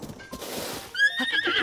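A horse in Zelda Breath of the Wild gives a loud, close whinny that follows a few soft hoof clops and a breathy snort, all heard alone without talk.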